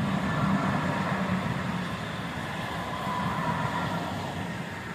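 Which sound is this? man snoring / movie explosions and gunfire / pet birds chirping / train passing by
train passing by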